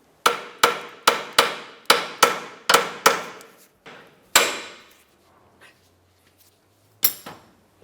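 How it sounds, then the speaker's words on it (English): A hammer strikes the drag link nut on a 1994-2002 Dodge Ram front end, about ten sharp metallic blows in quick rhythm, then a pause and a final pair of hits, close and loud. "Use your hammer and give this a couple loving bonks to break it free."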